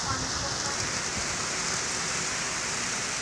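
Monsoon rain coming down at dusk, an even, continuous patter on surfaces, moderately faint and distant, with a voice faintly audible beneath the rainfall.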